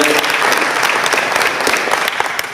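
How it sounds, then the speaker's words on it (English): A big round of applause from people at a club day meeting, steady and loud from start to finish, with faint voices mixed into the crowd. "Let's give her a big round of applause."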